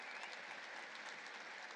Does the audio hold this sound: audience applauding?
yes